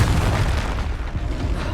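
Confringo blasting spell in Hogwarts Legacy: a heavy, booming explosion with deep low rumble dominating, sustained and loud across the short moment.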